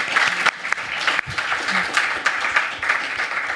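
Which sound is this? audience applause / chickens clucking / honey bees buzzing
audience applause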